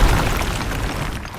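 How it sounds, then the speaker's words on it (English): A rock blasts apart in the Runescape Dragonwilds survival game, a deep booming burst that fades into a rumbling tail, with no voices over it. "Rock explosion."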